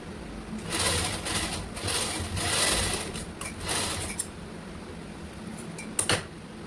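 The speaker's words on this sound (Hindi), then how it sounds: "इसको फोल्ड करके आप सिलाई मार दीजिएगा" An electric sewing machine stitches a folded seam on a red lined blouse in several steady whirring runs, the longest near the start, ending with a few short bursts; no one speaks.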